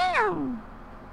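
A cartoon cat in the pet game Petz Catz 2 gives a single clear falling meow, bright and close, that sweeps down and fades into quiet background.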